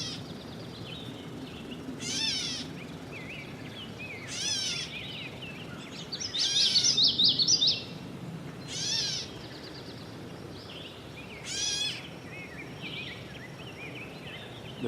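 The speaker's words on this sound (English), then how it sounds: "That is a catbird's call in the background." A catbird gives a series of mewing, cat-like calls in shrubby habitat, six short bursts spaced a couple of seconds apart, fairly faint and distant against a quiet outdoor background.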